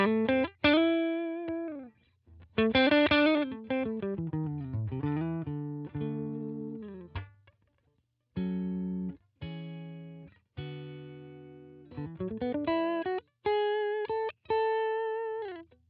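Electric guitar through a clean amp channel, single notes and chords plucked in short phrases with pauses between, ringing clearly with no talking.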